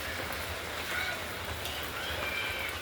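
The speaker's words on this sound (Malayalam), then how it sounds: "പുറത്ത് നല്ല മഴയാണ്" Soft, steady rainfall heard from indoors, a constant hiss with a few faint drips, no talking.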